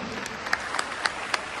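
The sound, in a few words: audience applause at a gathering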